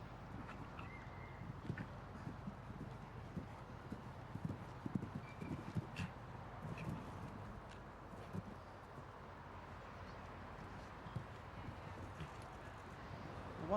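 Clip-clop of a powerful show-jumping horse's hooves over turf, a steady rapid rhythm at moderate distance with occasional louder thuds, under a faint murmur of voices.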